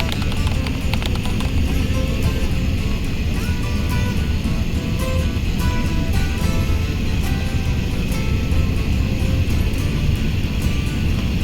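An Emirates airliner landing at Toronto airport, heard as a constant loud, broadband roar of engine and cabin noise that stays steady throughout with no clear speech.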